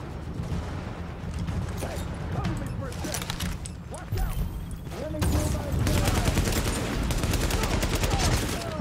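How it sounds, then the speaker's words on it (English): Gunfire crackles in bursts during a firefight in Tom Clancy's The Division, with rapid shots layered over background combat noise and a voice talking over it. "So who else is shooting?"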